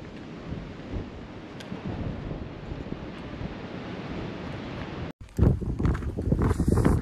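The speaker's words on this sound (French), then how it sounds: "il y a toujours du vent" Wind roars and buffets a microphone continuously on a hike at Janela, Santo Antão, Cape Verde, a broad rushing noise that grows rougher and louder toward the end.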